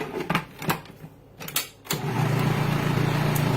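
A blender whirs through a peanut butter banana cream pie filling, starting after a few short bursts and thumps and then settling into a steady, loud, continuous motor drone that runs to the end.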